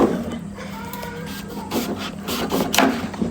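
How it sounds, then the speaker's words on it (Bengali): A knife cuts through a tough sweet pumpkin with a series of short, close, rasping scrapes and crunches, without any talking. "মিষ্টি কুমড়াটা এত টাইট এটা আমি কাটবো"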